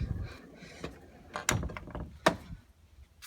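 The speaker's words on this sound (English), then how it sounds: "Sometimes that door doesn't close very fast and I don't want them to slip out." A house door swings shut with a couple of sharp knocks and latch clicks among softer handling noises, close by with no talk.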